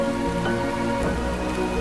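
Rain falls steadily on a Friday, a dense continuous patter across surfaces, even and unbroken from start to finish.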